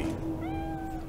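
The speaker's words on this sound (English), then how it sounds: "Oh, the kitty's still here, look at that." A cat meows once in the video game Cyberpunk 2077, a clear drawn-out tonal meow over a low steady hum of game background sound.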